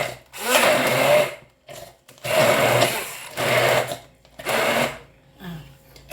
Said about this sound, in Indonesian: Nah, setelah kita tumis, kita blender besar ya.